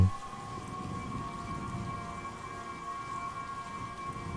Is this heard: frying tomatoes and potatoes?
no